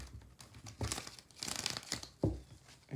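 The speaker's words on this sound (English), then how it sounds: "Wow, I can't shuffle." A stiff, worn deck of tarot cards being shuffled, giving bursts of crisp crinkling and riffling rustles, close and fairly quiet, in uneven handfuls.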